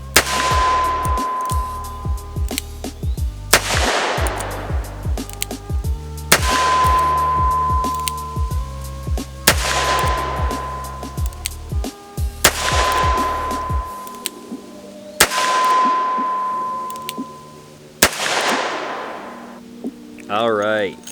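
A Taurus Tracker revolver fires .38 Special rounds: seven sharp, loud shots spaced about three seconds apart, each leaving a ringing decay that fades before the next.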